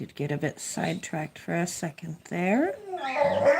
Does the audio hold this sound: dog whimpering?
yes